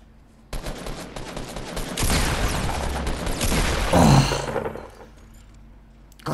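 Gunfire from a shotgun battle in the video game Fortnite, a loud dense burst of blasts and booms that swells, peaks and then fades into quieter game sounds.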